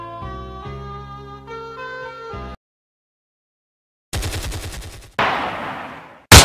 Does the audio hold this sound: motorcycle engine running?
no